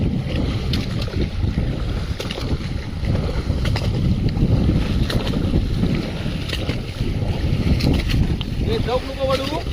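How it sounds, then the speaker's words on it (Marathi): A fishing boat motor at sea runs steadily after being restarted as the boat slowly turns, a constant low rumble mixed with wind buffeting and water wash, close and loud, with brief bits of talk underneath. "तर परत चालू केली आता हळूहळू वलवायला होडी"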